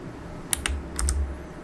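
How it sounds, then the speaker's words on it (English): Computer keyboard keys pressed while flying a flight simulator with joystick, a few sharp clicks over a low steady hum, close and fairly quiet. "Push G on the keyboard to bring the gear in"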